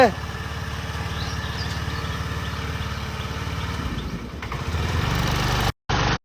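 A scooter engine drones steadily close by, its pitch lifting as it is revved toward the end before a brief cut, with a voice talking over the running motor.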